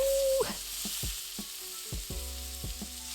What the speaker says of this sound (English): Enjoy the sizzle.